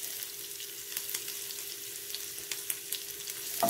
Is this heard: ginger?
yes